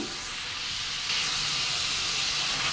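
Spices with turmeric and a splash of water sizzle and hiss steadily in a hot pan for a rice and potato dish, a close, continuous frying sound with a slight rise partway through.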